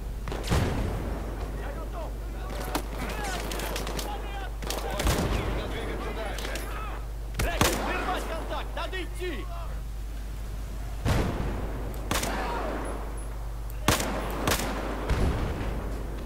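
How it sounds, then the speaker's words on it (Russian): Battlefield 4 combat with a tank firing and gunfire, heavy booming shots and bursts spread irregularly over a steady low rumble, loud and close. "Хера тут танк лупит."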